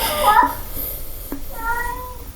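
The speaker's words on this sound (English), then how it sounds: "my sister's cat is meowing right now" A pet cat belonging to someone's sister meows indoors in two short, drawn-out calls with a pause between them, close and fairly loud.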